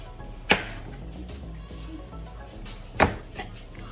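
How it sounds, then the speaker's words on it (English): Two sharp knife chops on a cutting board while chopping vegetables, spaced about two and a half seconds apart, with a softer tap after the second, over low background hum. "you're chopping up your vegetables"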